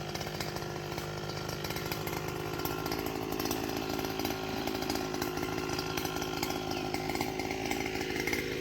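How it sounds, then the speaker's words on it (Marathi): A brush cutter's engine runs continuously clearing overgrown farmland in Konkan, a steady, buzzing whine, close and unbroken for several seconds, no voices. "इकडे तेजू मशीन लावता म्हणजे कटर मशीन"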